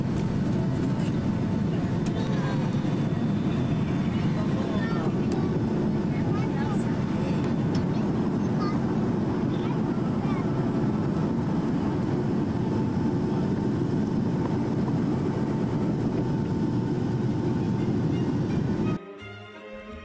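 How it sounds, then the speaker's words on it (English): An America West airliner takes off from Phoenix airport, with a loud, continuous roar of jet engines heard from inside the cabin that cuts off abruptly near the end. "if you keep waiting as we take off, you'll see a Delta Airlines taking off at the same time as us"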